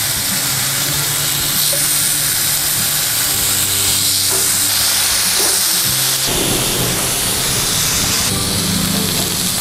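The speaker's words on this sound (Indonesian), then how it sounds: "Kita mau panggang daging spamnya." Spam slices fry in a hot pan with a loud, steady hiss and sizzle that runs unbroken and close, with no voices.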